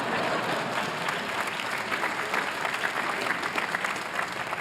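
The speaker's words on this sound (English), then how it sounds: "yes, you can applaud." A large audience applauds at the 2014 Harvard University commencement address, a dense, steady wash of clapping that holds evenly throughout without pause.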